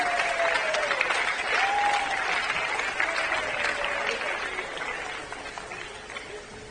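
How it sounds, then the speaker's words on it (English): Outdoor crowd applause for girls under 11 prize winners at a youth tennis tournament at Frans Otten Stadion, Amsterdam, steady clapping throughout with a faint tone above it, slowly fading. "Another applause, please, for your girls under 11 prize winners."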